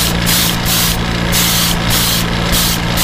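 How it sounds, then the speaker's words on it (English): Airbrush spraying pearlized paint onto a bullfrog popper fishing lure at higher-than-normal pressure, a steady loud hiss running throughout with brief pulses of stronger spray, alone without talk. "sometimes you just need that extra oomph to get that to shoot through your airbrush"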